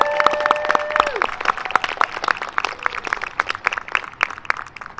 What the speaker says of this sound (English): Can we give a round of applause to our promoters one more time?